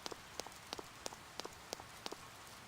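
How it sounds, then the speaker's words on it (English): Rain falls in the video game Persona 4, a soft patter with regular, evenly spaced droplet ticks repeating at a steady pace, quiet and without voices. "I'm going to stock up while it's raining"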